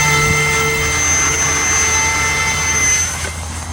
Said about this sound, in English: So we're just going to hand launch it. Here we are, with it nearly full throttle.